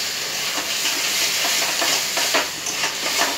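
Chilli paneer with mushroom being stirred dry in a frying pan, a steady scraping and rustling with a continuous sizzle beneath, close and fairly loud with irregular stir strokes throughout.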